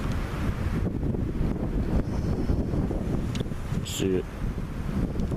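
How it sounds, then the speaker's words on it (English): A harsh, nearly constant wind buffets the microphone outdoors with a steady, heavy low roar, and a voice speaks briefly near the end. "there's like a harsh wind, and it's just about constant today"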